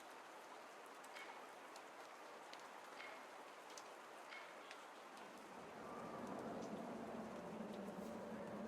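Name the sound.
rain falling in the video game Rue Valley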